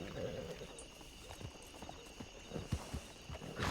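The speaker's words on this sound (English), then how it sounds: "tell the stable master to bring my horse around so I can just go from there to Armadillo" Horse hooves clip-clop in the Red Dead video game, a steady series of light hoofbeats over faint background ambience with a brief whinny-like texture, no speech.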